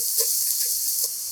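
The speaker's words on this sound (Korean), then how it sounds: "식용유 2스푼, 다진 마늘 넣고 볶아" Minced garlic fries in two spoonfuls of cooking oil over medium-low heat, a brief, bright, steady sizzle heard up close, ending in a small knock.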